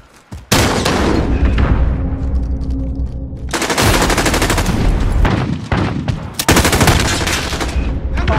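Loud, close bursts of automatic gunfire in a military shooter video game, sustained rapid fire broken by short pauses and sharp impacts, with little else in the mix.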